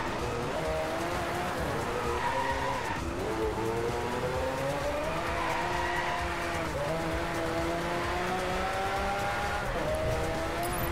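Racing car in the DRIVECLUB video game, its engine droning with rising and falling pitch as it slides through a corner, tire noise smeared beneath; steady, fairly quiet, no voices.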